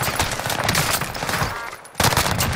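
Rapid automatic gunfire rattles in a first-person shooter game, dense bursts of loud shots that cut out briefly near the end before resuming at full force.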